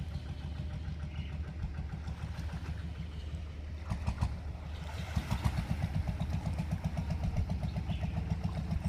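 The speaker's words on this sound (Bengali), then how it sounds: "বেশ কিছু নৌকা আসা যাওয়া করবারও চেষ্টা করছে এখানে" Motorboats move on the sea off Havelock in the Andaman Islands during light rain, a medium engine chugging steadily nearby and growing louder toward the end, with no voices.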